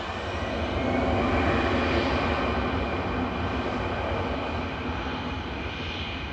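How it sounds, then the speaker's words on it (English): A steady, rumbling engine roar from an EasyJet airliner departing Manchester Airport, swelling slightly in the middle and holding broad and constant throughout, with no talk. "EasyJet departing."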